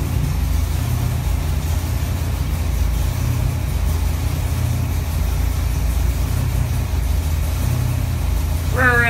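A Ford 331 stroker V8 with 9.9:1 compression and AFR 165 heads runs steadily on a dyno, a loud continuous low engine rumble holding near idle throughout, with a brief rising whine at the very end.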